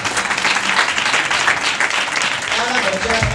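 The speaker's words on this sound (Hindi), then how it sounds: "तालियां बजाएं।" A church congregation applauds for the children, a loud, continuous wash of clapping from many hands close by, with voices mixed in near the end.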